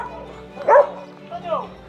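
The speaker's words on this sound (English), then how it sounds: "So this dog is rounding up these big cows." A herding dog rounding up large cows lets out two short, sharp barks, the first louder and nearer, amid ambient outdoor noise.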